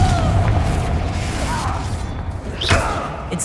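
A Confringo blasting-curse explosion bursts in a Harry Potter video game inside a closed mine like a tomb, a dull booming thud with a short crackling flare over steady low rumble.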